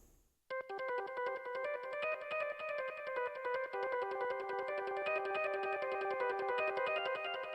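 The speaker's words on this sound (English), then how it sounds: "So over the top of the piano line is this organ line," Sustained organ line held above a piano part in a composed piece, a steady chordal drone entering abruptly after a brief pause and continuing evenly, fairly quiet, with no talk.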